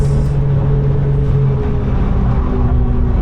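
A track car on the Nürburgring runs at full throttle, its engine drone loud and steady from inside the cockpit with a low rumbling hum and no talking.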